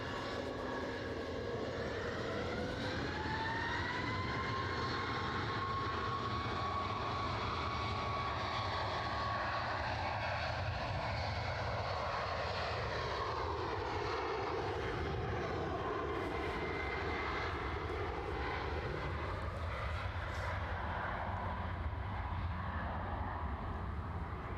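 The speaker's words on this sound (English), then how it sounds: "Les confirms Air Baltic next in." An Air Baltic Airbus A220-300 airliner, wet-leased for Brussels Airlines, lands at Edinburgh Airport with a loud, sustained jet engine roar and a whine that rises and then slowly falls away, with no voices.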